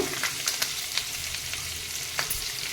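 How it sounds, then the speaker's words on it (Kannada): Sliced onions fry in hot oil with mustard seeds and curry leaves for an onion sagu, giving a close, continuous sizzle dotted with sharp crackles and pops. "ಇದನ್ನೀಗ ನಾವು ಚೆನ್ನಾಗಿ ಎಣ್ಣೆಯಲ್ಲಿ ಫ್ರೈ ಮಾಡಬೇಕು."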